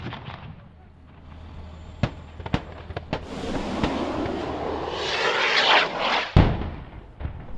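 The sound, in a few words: rocket strike on ISIS fighters' positions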